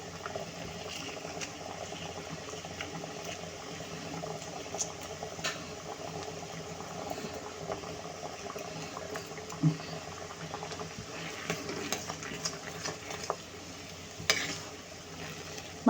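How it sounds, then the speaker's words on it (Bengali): Sugar syrup with cardamom boiling in a pot for laddu, a faint continuous bubbling and simmer with occasional small clinks and stirring sounds, no talk. "এই যে এটা বলক আসতেছে"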